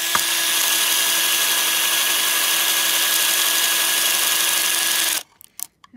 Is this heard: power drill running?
yes